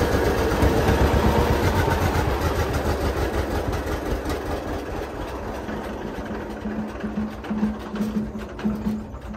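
A 1939 John Deere tractor engine, in need of a tune-up, chugs steadily while being moved in cold weather. The close, low, rhythmic running stays fairly even throughout.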